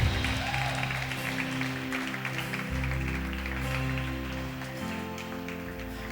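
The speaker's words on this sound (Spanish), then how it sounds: "Vamos a darle un aplauso a Jesús." Church congregation applauding for Jesus during a sermon, a steady wash of many hands clapping over sustained low organ or keyboard chords, moderately loud and continuous.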